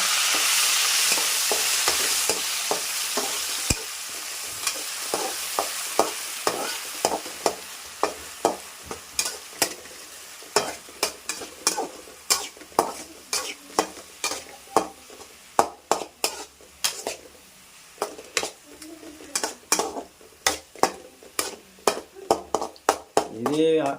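Ginger garlic paste fries with onions in a pan, a sizzling hiss that fades over time, punctuated by rhythmic spatula scrapes and stirring clacks against the pot.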